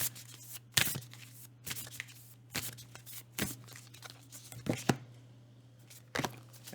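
A deck of oracle cards is shuffled by hand, giving sharp riffling bursts at irregular intervals, roughly every second, over a low steady hum in a quiet room.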